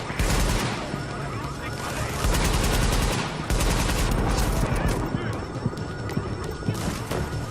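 Shotgun and automatic gunfire in the video game The Division, with repeated sharp blasts and bursts in a cluster and short gaps between them, and game voices mixed in.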